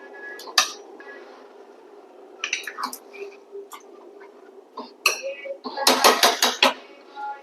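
Raw jackfruit curry being stirred with salt in a metal pot: scattered clinks and scrapes of a spoon against the pot, quiet at first and then a busier cluster of clattering toward the end, heard up close with no talking.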